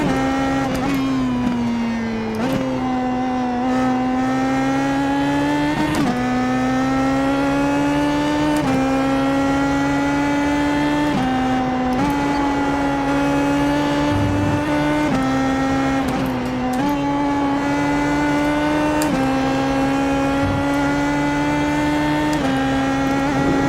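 A Pro Mazda PM18 open-wheel race car runs at Watkins Glen. Its engine holds a loud, continuous high-pitched drone, and several quick dips and rises in pitch mark gear shifts and throttle changes heard close up from onboard.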